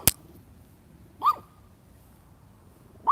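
Dog on an outdoor walk giving two or three short, sharp barks spaced more than a second apart, fairly faint against quiet background noise, with no speech.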